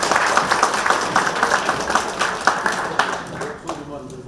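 Audience applause at a book launch event in Nonsan as a city council member arrives, a dense, steady wash of many hands clapping that continues throughout and tapers slightly near the end.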